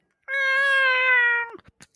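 A cat lets out one long, loud, close meow that holds steady and then drops off, followed by a few faint clicks and rustles.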